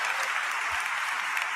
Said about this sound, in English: just give a sustained applause in solidarity with these families.